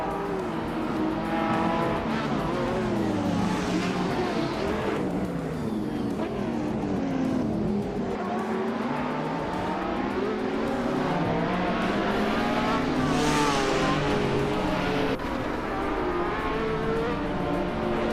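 Lamborghini race cars from a racing video game roar around a high-speed ring, engines revving and sweeping past in a continuous loud, layered drone with rising and falling pitch.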